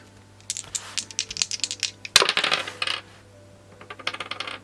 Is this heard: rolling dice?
yes